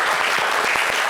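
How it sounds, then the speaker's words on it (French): Studio audience applause for mothers on a variety show: a brief, dense burst of many hands clapping, close and even, with individual claps showing through the steady wash and no talk over it. "Et nous applaudissons toutes nos mamans."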